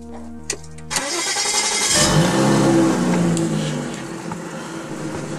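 An Audi S4 engine cranks and catches after a coolant bleed, settling into a loud, steady idle close by with a brief rise in revs just after starting.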